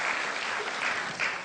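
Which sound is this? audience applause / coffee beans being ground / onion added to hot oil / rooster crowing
audience applause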